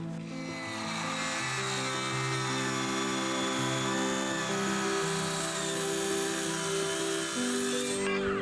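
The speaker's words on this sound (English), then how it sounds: "I need to get a Diablo steel blade that's made for cutting 3/8 flat steel up to 1/2 inch." A saw fitted with a Diablo steel-cutting blade cuts through 3/8 inch flat steel, a steady high metallic whine with a ringing tone that holds for about eight seconds and then cuts off abruptly.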